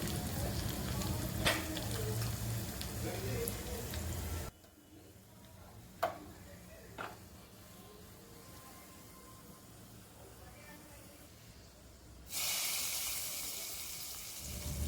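Mustard seeds and dried red chillies crackle in a hot tadka meant for Punjabi dal khichdi, loud and sizzling for several seconds, then hushed with a few sharp pops before the sizzle surges back near the end.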